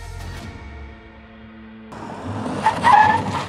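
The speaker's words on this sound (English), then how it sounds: "to test the automatic emergency braking or AEB on the car" A Mahindra XUV700 top variant in an automatic emergency braking test at Penzing Air Base: a car engine approaches, then tires break into a loud, rising squeal and skid under hard braking, with no talking.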